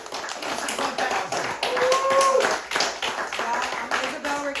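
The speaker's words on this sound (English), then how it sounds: "give them a round of applause real quick" Audience applauding comedian Brent Taylor on a late-night live interview show, a steady wash of clapping with cheers and voices calling out over it throughout.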